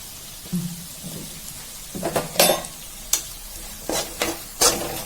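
Clams fry in a pan with masala powder, giving a few scattered sizzles and crackles along with stirring scrapes, moderately close and with no talking.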